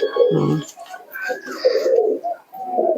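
Domestic pigeons, a pair of show birds with a male and female, coo in loud, close bursts with a brief pause in the middle, as some voices talk over them.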